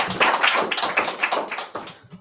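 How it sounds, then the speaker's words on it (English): Conference audience after a talk on medical device security, giving brief applause made of scattered, uneven claps that fade out after about two seconds. "Big round of applause, please."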